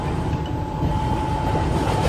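Steady rumble and rattle of a moving train heard from inside, continuous and fairly loud, with a faint high hum.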